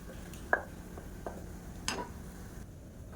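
A spoon stirs cooked moong dal into boiling jaggery syrup for traditional rice-flake sweet pongal, with a few soft scraping clinks against the pot over a quiet background.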